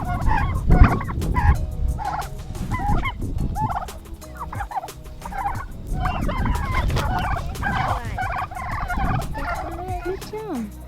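Meat turkeys gobbling loudly and repeatedly at close range as they scuffle and fight, with busy flock chatter throughout.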